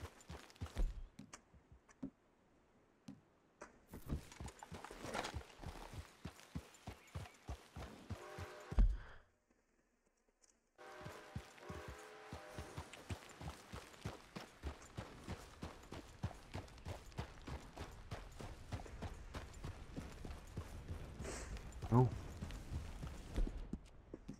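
Horse hooves clip-clopping on the ground in the game Red Dead Redemption 2, a brisk, regular rhythm of close footfalls that pauses briefly and then resumes, with occasional talking over it.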